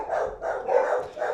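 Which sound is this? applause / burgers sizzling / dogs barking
dogs barking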